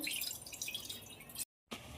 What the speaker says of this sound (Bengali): দিয়ে দেবো একটু জল।